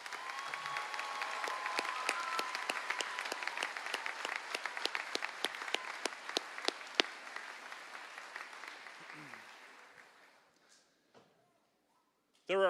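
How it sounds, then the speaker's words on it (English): Graduating high school class at a commencement ceremony receives sustained audience applause, dense clapping that fills the hall for about nine seconds before thinning out and fading to near silence. "If we can give them a round of applause."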